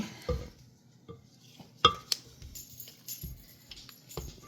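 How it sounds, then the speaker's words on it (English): A spatula scrapes and taps around a mixing bowl of cheesecake batter, with sparse clinks and scuffs spread unevenly across a few quiet seconds and no talking. "let me just stop this and scrape down so this way we can complete it"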